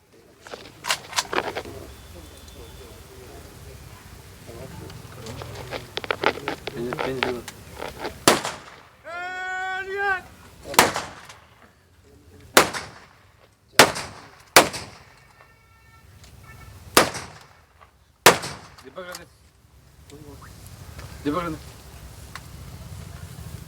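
A guard of honour fires a rifle volley at a soldier's funeral procession in a village, with loud separate sharp cracks spaced a second or two apart, mixed with shouted commands and crowd voices.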